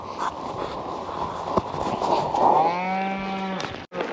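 Cattle on a hilltop on a cold morning: a single drawn-out moo swells up near the end over quiet outdoor background, with a few small knocks before it.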